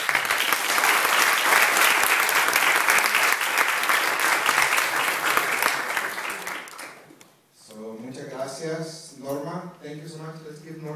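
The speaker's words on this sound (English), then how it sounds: "Let's give them a big round of applause." An audience at a town hall discussion on immigrant rights and law enforcement breaks into a big, loud round of sustained applause that dies down after several seconds, followed by a speaker talking.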